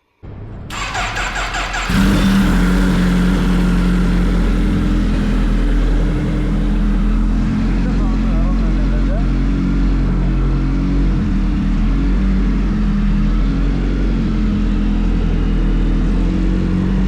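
A toy Kawasaki Ninja H2 ride-on bike starts up with a brief electronic whir, then settles into a loud, steady simulated engine drone that holds unchanged, close by and alone.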